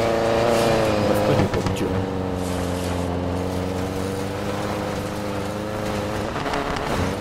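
Race car engines from Need for Speed Payback, a steady loud drone with a low harmonic hum and slight pitch shifts, continuous and close, with no talk.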